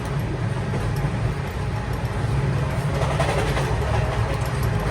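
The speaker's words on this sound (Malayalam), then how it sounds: "ട്രെയിൻ ഇപ്പോൾ ഒഡീഷയിലെ ഭദ്രക്ക് റെയിൽവേ സ്റ്റേഷനിലേക്ക് എത്തിയിരിക്കുകയാണ്" A Humsafar Express pulls into Bhadrak railway station in Odisha, heard from on board as a loud, steady low rumble of wheels and carriages rolling throughout, with no voices.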